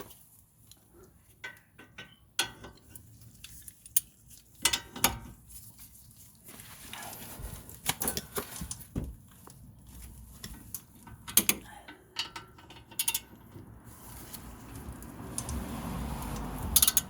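A ratchet wrench with a 17 mm socket tightens front brake parts on a 2006–2011 Honda Civic, giving close, irregular bursts of clicking pawl ticks and metallic clanks that build toward the end, with no talking.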